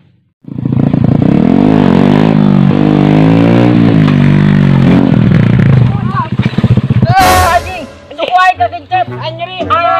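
A motorcycle engine revs hard and close, rising and falling in loud throttle bursts for several seconds before cutting off, after which people talk.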